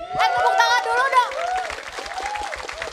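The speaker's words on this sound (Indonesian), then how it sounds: "Tepuk tangan dulu dong." Audience applause and cheering at a JKT48 idol group event, a crowd clapping under a speaker's voice that carries over the noise.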